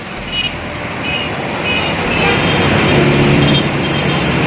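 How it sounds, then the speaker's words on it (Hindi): Dense, steady roar of traffic heard while standing at the edge of a busy main road on the way to a children's hospital, with engines rumbling, occasional horn toots and a continuous loud wash of vehicle noise. "मेन रोड पर खड़े हुए ना, इस वजह से शोर बहुत ज़्यादा है।"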